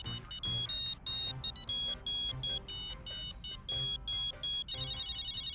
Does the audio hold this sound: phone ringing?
yes